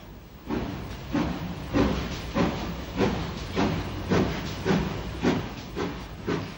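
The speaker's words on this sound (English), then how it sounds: "V-class compound number 86 Peregrine, with an uncharacteristic slip, gets a heavy Belfast to Dublin train underway" GNR V-class 4-4-0 compound steam locomotive No. 86 Peregrine starts a heavy Belfast to Dublin train, giving a series of loud, evenly spaced exhaust chuffs, about nine beats, over a steady background hiss.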